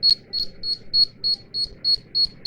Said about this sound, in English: Can you hear the beeping?